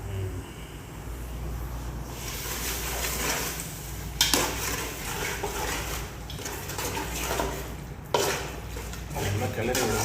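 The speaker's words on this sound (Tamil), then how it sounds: "நல்லா கிளறி விடணும்." Biryani masala with half a lemon is stirred in a pan, making a steady sizzle with scraping utensil strokes and two sharper clanks of metal against the pan.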